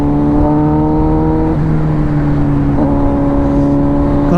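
A motorcycle on a night ride along a Kokan road between Ratnagiri and Chiplun, its engine humming loud and close with steady harmonic tones that dip briefly twice as the rider shifts or eases the throttle.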